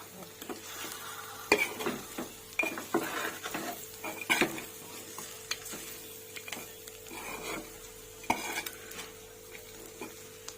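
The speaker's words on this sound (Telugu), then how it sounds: "ఇలా ఒక 3 మినిట్స్ ఫ్రై అయిన తర్వాత మిరియాల పౌడర్ యాడ్ చేసుకుంటున్నానండి" Chicken dry fry with pepper powder is stirred in a pan, giving repeated sharp clinks and scrapes of a spoon against metal over a soft, continuous sizzle, with no voices.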